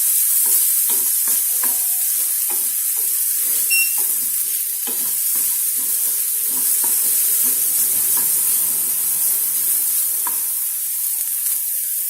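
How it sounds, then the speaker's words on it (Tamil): Onions sizzle steadily in a hot pan for cauliflower fried rice, a loud continuous frying hiss with occasional stirring scrapes and no talking. "ஆனியன் நல்லா வதங்கிடுச்சு."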